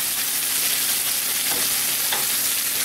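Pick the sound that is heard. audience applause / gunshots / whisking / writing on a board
whisking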